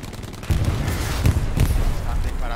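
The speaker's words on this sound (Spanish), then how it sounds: "Están disparando ahí al puerto." Gunfire and explosions fill a battle near a port in the World War II shooter Hell Let Loose, with loud overlapping booms and bursts running steadily under a speaking voice.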